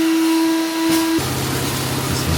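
A steady, loud vacuum cleaner drone with a tonal hum runs close by throughout, shifting pitch partway as the motor changes, while cleaning up during concrete floor grinding.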